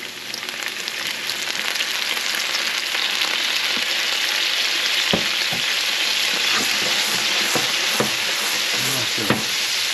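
Merlot red wine poured into a pan of sizzling shallots, giving a loud, steady frying hiss with scattered crackles and occasional stirring clinks, and no voices.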